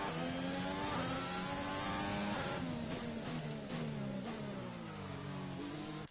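Simulated Formula 1 car in F1 2021, Rockstar Energy Racing team car at Azerbaijan, accelerating out of the pit lane with a steady high-pitched engine whine rising through the gears, loud and close, with no talk.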